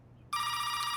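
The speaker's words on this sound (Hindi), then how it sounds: "एनजी, तुम्हारी माँ का फोन है।" Telephone bell ringing at home, a bright continuous electronic ring starting suddenly after a short quiet moment and holding steady at moderate level.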